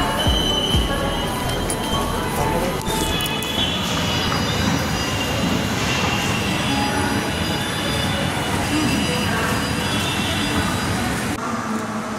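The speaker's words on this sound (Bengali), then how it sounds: "আর এই যে আমাদের মেট্রো ঢুকে গেছে" A metro train rumbles loudly and continuously with metallic wheel squeal and clatter as it pulls into a station, with faint voices in the background.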